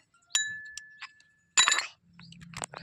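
Small metal cookware clinks sharply a few times, bright ringing knocks separated by short silences, followed by a softer scrape.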